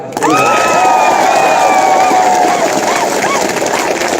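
A large crowd at a mass political gathering claps and cheers loudly, with shouting voices and whistle-like tones rising above the steady roar.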